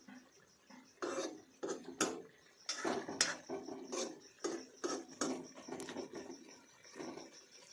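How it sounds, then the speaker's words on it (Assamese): Pork with sesame is stir-fried in a pan, with a spatula scraping and knocking against the metal in irregular quiet bursts over a soft sizzle. "প্ৰায় 2 মিনিটমান পিছত আকৌ এবাৰ লৰাই ভাজি দিয়া হ'ল"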